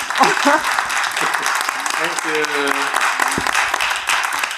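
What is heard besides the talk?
audience applause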